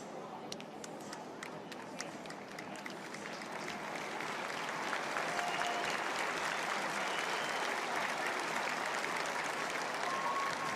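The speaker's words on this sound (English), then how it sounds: "See the crowd clapping as she walks off the field." A stadium crowd at an NCAA softball game between Alabama and Middle Tennessee applauds an injured player as she walks off the field. The clapping is distant and soft at first, then swells into steady applause that holds.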